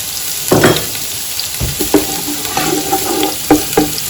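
A cup of spring onions sizzles in about three tablespoons of sunflower oil, a loud close hiss broken by several stirring scrapes and clatters from the pan, with no voices.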